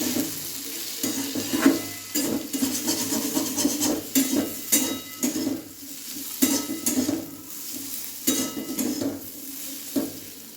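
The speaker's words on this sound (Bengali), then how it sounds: "আলু ভাজা প্রায় হয়ে যাচ্ছে এবার নামাবো" Potato pieces frying in a pan, sizzling steadily while being stirred with repeated scraping, rhythmic rubbing strokes close by.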